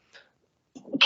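A single sneeze bursts out close and sharp after a short breathy intake, then the clip falls silent.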